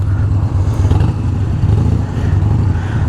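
A Harley-Davidson motorcycle running on a dyno gives a loud, steady, close-up engine rumble with a dense low-end throb that continues for the whole stretch, with no voices.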